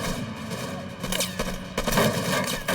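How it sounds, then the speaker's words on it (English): SWAT team gunfire in a shootout with gunmen, rapid bursts of shots crackling in clusters, loud and close, layered over a tense dramatized soundtrack. "The SWAT members open fire."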